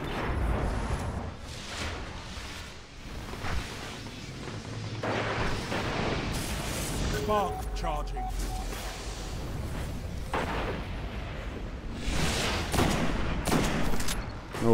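Rapid sniper shots and other gunfire crackle in a Destiny PvP match on the Thieves' Den Rift map, a dense, fairly steady barrage of sharp reports layered over busy game sound effects.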